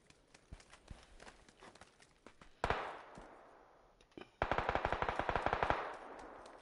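Bursts of automatic gunfire from the video game PUBG rattle in rapid, evenly spaced volleys at moderate distance, with scattered single shots between two sustained strings of fire.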